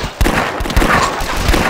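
Rapid bursts of gunfire from the zombie shooter game The Last Stand, sharp repeated shots crackling close and loud with no talking.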